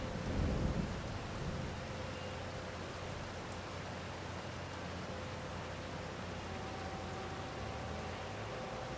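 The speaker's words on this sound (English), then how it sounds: "An inclement weather day here in Judith Plains, Montana. Got the rain." Rainstorm in Farming Simulator 25 on a Montana plains map: a steady hiss of rain, with a low rumble of thunder at the start that fades into the even downpour.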